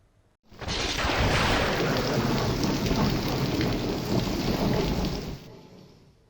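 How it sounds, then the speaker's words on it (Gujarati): Heavy, steady early-morning monsoon rain pours down in Valsad district, Gujarat, with rolling thunder underneath, loud and continuous throughout. "વલસાડ જિલ્લામાં વહેલી સવારથી જ વરસાદી માહોલ છે"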